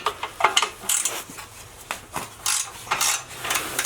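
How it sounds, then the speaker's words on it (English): Ratchet with a 12 mm socket loosening an exhaust bolt on a Honda Grom motorcycle, close, irregular metallic clicks and clanks in short bursts with tool handling between them. "I'm going to go ahead and get that bolt off right now"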